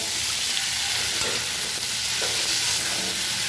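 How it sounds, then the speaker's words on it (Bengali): Tomato, beans and carrot frying in oil for a semolina pulao, giving a loud, dense, continuous sizzle with faint stirring close up. "ভালো করে ফ্রাই করে নেব এগুলোকে।"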